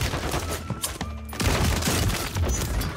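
Rapid bursts of gunfire in Warzone 3, dense and loud with a brief gap near the middle, then continuous heavy shooting and impacts through to the end, with no talking.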